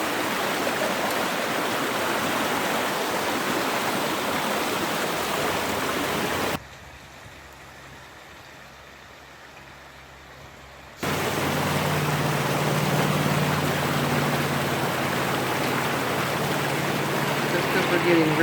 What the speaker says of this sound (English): We're getting record flooding.